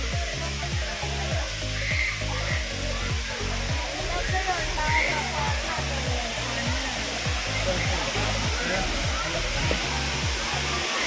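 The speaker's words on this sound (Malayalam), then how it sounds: "അങ്ങനെ നടന്ന് നമ്മളിത് എത്തിക്കഴിഞ്ഞു വെള്ളച്ചാട്ടത്തിൻ്റെ സ്പോട്ടിലേക്ക്." Anayadi Kuthu waterfall at Thomankuthu in Idukki, a continuous loud roaring rush of falling water heard close, with a regular low thumping underneath and faint voices.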